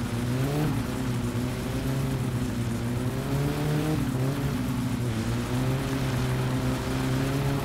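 Car wheels spinning on dirt in the video game My Summer Car, a loud, sustained engine roar with wavering revs that dip and climb several times throughout.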